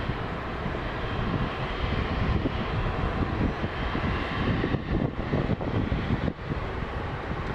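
An airliner departing Montréal-Trudeau Airport for Toronto gives a steady, broad roar of jet engine noise that holds at an even loudness throughout, with no voices.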